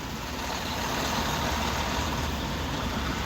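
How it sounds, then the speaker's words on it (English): Dense, steady road traffic roars past a car on the drive to Cincinnati, a continuous broadband rush of tyres and engines with no pauses and no talk. "We're going to soak in the traffic."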